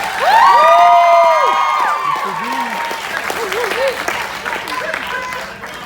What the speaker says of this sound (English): let's give the father of the bride,